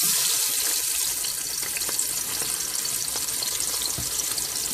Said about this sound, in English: I have already started my oil, and I will be adding my pork gradually.